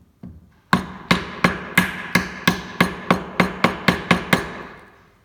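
A mallet strikes a chisel into wood held in a vise, with one light tap followed by about a dozen sharp, evenly spaced hard knocks, each ringing briefly, close and loud with no talk.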